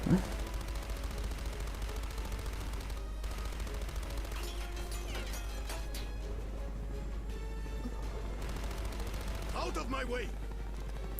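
Gunfire in the James Bond Blood Stone 007 video game, a sustained stream of rapid shots and bursts over a low constant rumble, moderately loud and continuous.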